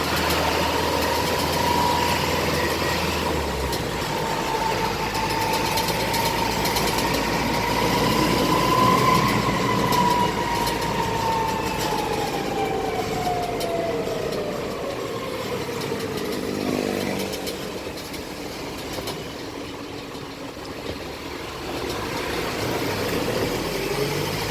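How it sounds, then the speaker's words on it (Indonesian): Inside a modified Hino 300 136HD 4x4 truck on the move, a worn or misadjusted transfer case gives off a loud, continuous whine that rises and falls in pitch with speed, over steady road and engine rumble. "itu noise dari transfer case"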